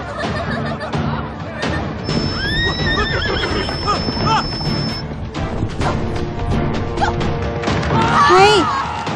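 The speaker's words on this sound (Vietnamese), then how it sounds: "sao ngựa dừng hết vậy chứ?" Horses neigh loudly in a period costume drama, several whinnies rising and falling over a busy clatter of hooves and crashing impacts, with voices mixed into the scene.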